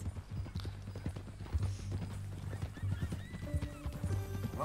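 A horse in Red Dead Redemption 2 clops along with rhythmic hoofbeats and gives a clear neigh toward the end, fairly quiet, with a low steady tone underneath.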